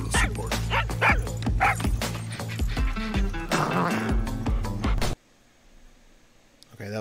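Small dog barking in short yips and bow-wows from a Far Cry 6 game trailer, mixed under music and voices for about five seconds, then cutting to near silence.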